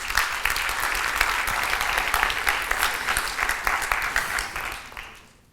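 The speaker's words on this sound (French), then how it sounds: "Sous vos applaudissements, s'il vous plaît." Audience applause at a conference stage event as guests are called up, a steady dense clapping that carries for several seconds before tapering off at the end.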